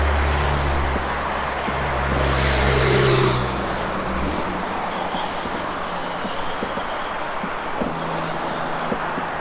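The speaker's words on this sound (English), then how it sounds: "Absolutely hate the noisy traffic." Noisy road traffic in Sydney, cars and trucks rumbling past close by, with a heavy vehicle swelling and fading, a brief air-brake-like hiss, and steady roadside roar afterward; no talk.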